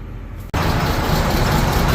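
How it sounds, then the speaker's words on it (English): A John Deere 4440 tractor diesel engine cold-starting, catching abruptly after a brief pause and settling into a loud, steady, broadband rumble close by. "Oh, the 4440 started, but barely."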